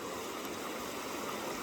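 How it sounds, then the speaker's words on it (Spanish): The Rhine River flows through a Swiss canyon in a constant, dense broadband rush of water, even and unbroken, fairly faint and with no voices over it. "Este es el río Rin"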